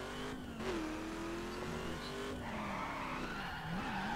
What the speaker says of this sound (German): Mal ein bisschen driften.